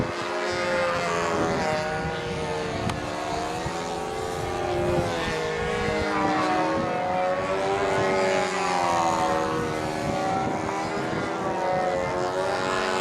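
An electric radio-controlled model aircraft at a flying contest, its motor and propeller giving a steady, strongly tonal whine that rises and falls in pitch as it passes, loud and continuous throughout with no talk.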